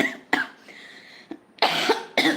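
A person with a cough gives a few dry coughs at close range, two stronger bursts coming near the end, with no speech.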